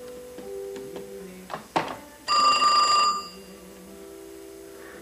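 An antique telephone's bell rings in one loud, metallic burst of about a second, heard close up in an apartment room after some quieter handling sounds.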